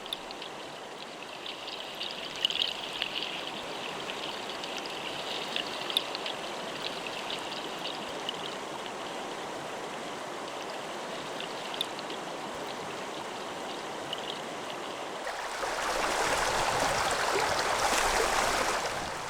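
A river stream flows steadily after rain, with a constant rushing, gurgling wash of water that grows louder and fuller near the end.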